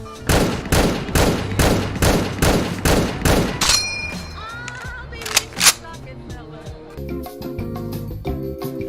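An M1 rifle called Blue Betty fires in Fallout 4: about eight loud, rapid, evenly spaced shots, followed by the metallic ping of the clip ejecting and some reloading clatter, with a voice speaking over the action.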